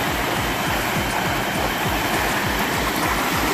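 Garden Leisure hot tub with two pumps and 29 jets running at full power, water diverted to the floor jets: a loud, steady rushing churn of water with low pulsing surges, continuous throughout, no voices.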